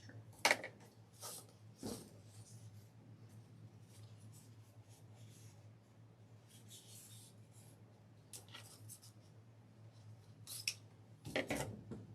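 Fabric scissors snip through the stems of a bridal bouquet, giving a few quiet, sharp cuts with soft rustling and handling noises in between.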